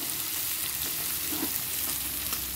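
Onion and slit green chilies fry in oil with nigella seeds, a dense, steady sizzle with occasional stirring scrapes, close and moderately loud throughout.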